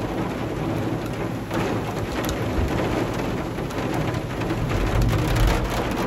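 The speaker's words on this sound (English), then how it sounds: "Rain and hail and tornado watch out there." Heavy rain from a storm with hail and a tornado watch pours down outside in a dense, continuous hiss, steady and loud, with no voices over it.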